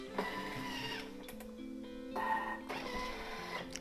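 A Thermomix TM6 with its vegetable peeler attachment runs with a quiet, mechanical whirring and rattling. Its tones shift and stutter over a few seconds.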